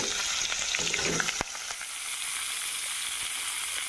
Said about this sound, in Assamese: অলপ সময় ৰঙালাও আৰু আলুখিনি লৰাই ভাজি ল'ম